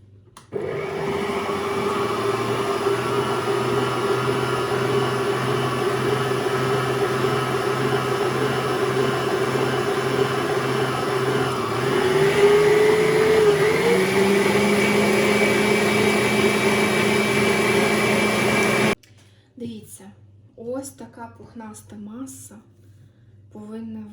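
An electric mixer whips chocopie batter at high speed, a loud steady motor whine that holds for most of the clip, rises in pitch partway through, then cuts off abruptly, followed by a few brief spoken words.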